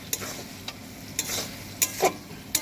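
Food frying in a home-kitchen pan with soy sauce, stirred with sharp scraping clicks at irregular intervals over a steady low sizzle, close and fairly quiet, no talking.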